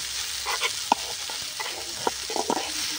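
A potato filling with Kashmiri chilli and aloo dum spice mix is stirred in a pan, with light frying sizzle and scattered scraping knocks of a spoon over a few seconds.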